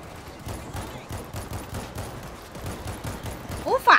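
Rapid, evenly paced assault rifle fire in the World War Z video game, a continuous stream of shots with a louder burst at the end and a voice talking briefly.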